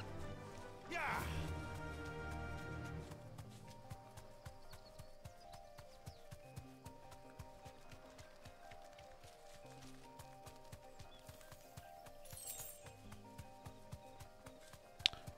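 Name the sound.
horse hooves clip-clopping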